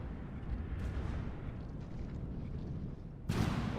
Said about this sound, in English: Here comes some more shells from the other guns.